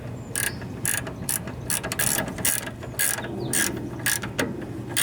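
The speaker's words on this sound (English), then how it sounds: "I'll put my thin 1/2 inch back in here just to make sure I can crank it down all the way." A ratchet drives a thin 1/2 inch socket down on the steering linkage of a riding lawn mower, giving close, quick clicking bursts in an irregular back-and-forth rhythm over a faint background hum.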